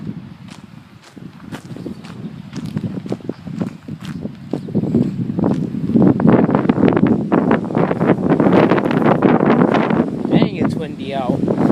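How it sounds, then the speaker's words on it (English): Wind buffets the microphone outdoors on a farm, gusty low rumbling that builds and stays loud, with footsteps and a person talking over it. "It's gonna be windy."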